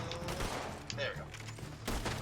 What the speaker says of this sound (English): Oh, shotgun.